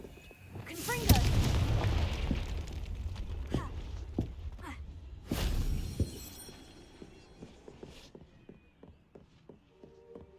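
Confringo fire spell blasts in Hogwarts Legacy, two heavy booming explosions with crackling tails amid scattered lighter impacts and footsteps, the action quieting toward the end.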